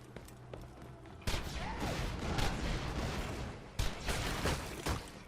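Explosions boom in Borderlands' Captain Scarlett DLC, a sudden loud blast followed by rumbling gunfire-like bursts and a second sharp detonation, close and heavy.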